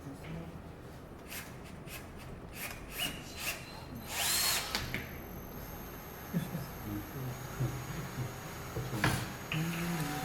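A power drill bores a 5 mm hole into the centre of a part at a maker workshop, with short whirring bursts amid handling noise and background chatter.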